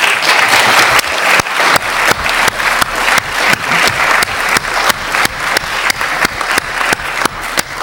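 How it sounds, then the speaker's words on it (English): A council meeting audience gives a round of applause, loud continuous clapping in a chamber with individual sharp claps standing out in a steady rhythm throughout. "This council could give them a round of applause"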